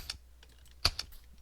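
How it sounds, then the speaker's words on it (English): Dry clicks from an empty gun in a Minecraft Pocket Edition apocalypse addon, a few sharp, close, isolated ticks spaced irregularly over a quiet background. "if you try firing again, it'll do a clicking sound and give you an empty version."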